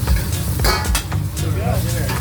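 An egg fries in a hot wok for fried rice in a Thai restaurant kitchen in Seoul, with crackling sizzle and scraping stirs close by while people talk over it.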